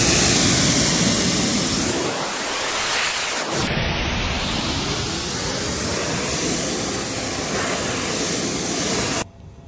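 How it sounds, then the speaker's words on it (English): Steady hiss of a water spray rinsing a car wheel and tire during professional wheel detailing, broad and continuous with a brief dip as the stream shifts, cutting off abruptly at the end. "Then you rinse."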